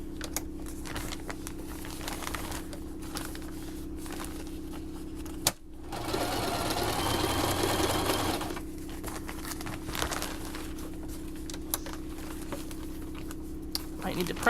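Sewing machine running a zigzag stitch on fabric for a baby changing mat, a steady continuous whirring burst of a few seconds, close and fairly loud between quieter stretches of background hum.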